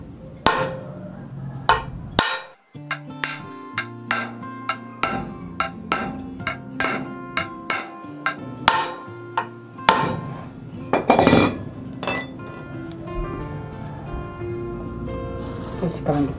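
An axe is used as a hammer on a stuck disc brake rotor of a Satria FU motorcycle, giving a long series of sharp metallic strikes, near and loud, with someone talking between and over the blows.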